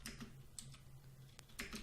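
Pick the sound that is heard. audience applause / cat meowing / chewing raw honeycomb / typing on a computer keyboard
typing on a computer keyboard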